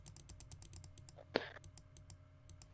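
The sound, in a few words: clicking on a computer keyboard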